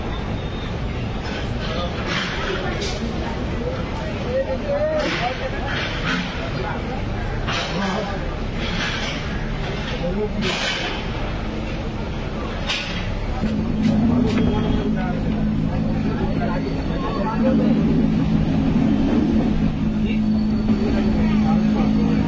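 The Shalimar–Puri Dhauli Express runs with a steady rumble and rattle of carriages heard from inside the train, swelling louder in its second half, while passengers talk throughout.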